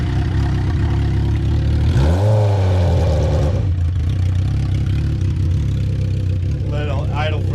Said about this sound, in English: we'll go ahead and crank it up and hear it run just for a minute